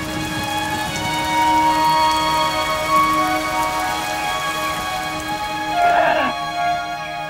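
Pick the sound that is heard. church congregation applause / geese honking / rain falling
rain falling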